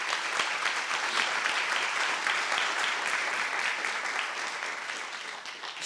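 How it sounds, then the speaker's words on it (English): Warm applause rises from the audience at a Founders' Day convocation, greeting three panelists with a dense, sustained patter of clapping that eases slightly toward the end. "Give them a warm round of applause."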